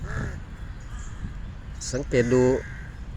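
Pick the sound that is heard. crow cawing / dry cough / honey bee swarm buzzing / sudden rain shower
crow cawing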